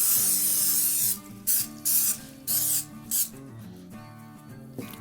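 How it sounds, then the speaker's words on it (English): Olive oil sprayed in several short hissing bursts over a raw tri-tip roast, close and loud, with brief pauses between bursts and no talking. "take some olive oil. I'm just gonna spray the outsides of this."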